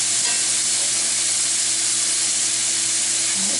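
Pre-cooked meat browning in a big pan, a loud, steady sizzle and hiss of frying close up, with faint stirring and no voices.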